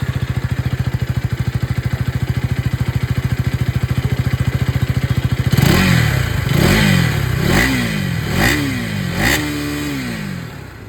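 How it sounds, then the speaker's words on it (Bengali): A Duke 250 motorcycle exhaust idles with a steady, rapid thump, then revs sharply in about five quick rising-and-falling blips, loud and close, with no talking. "এবার এখানেও আপনাদেরকে আমি এই ডিউক 250 যে এক্সস্ট সাউন্ড সেটাও আপনাদেরকে শুনিয়ে দিই"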